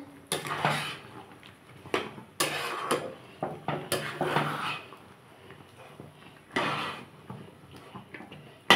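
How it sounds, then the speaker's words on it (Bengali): A spatula scrapes and knocks against a pan while plum (kul) pickle is stirred, giving irregular clattering bursts separated by short quiet gaps, close by and with no one talking. "বন্ধুরা এইভাবেই সমানে এখন নাড়তে হবে, নাহলে মানে তলায় ধরে যাওয়ার চান্স আছে"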